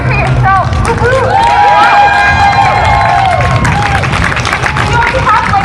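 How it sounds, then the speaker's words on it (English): A rally crowd cheering, whooping and clapping in a loud, sustained wave, with shouted voices rising over continuous applause. "So I just want to give us all a big old round of applause"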